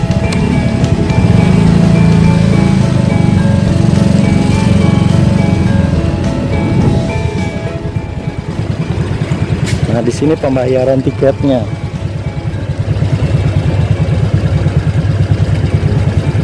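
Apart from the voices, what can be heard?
motorcycle engine riding through park gate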